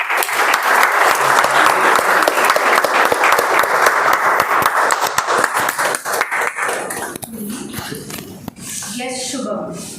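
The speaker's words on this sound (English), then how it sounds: "A big round of applause." A room of attendees at a Whitefield Toastmasters milestone meeting breaks into loud, dense applause for about seven seconds, which then tapers off as voices start talking.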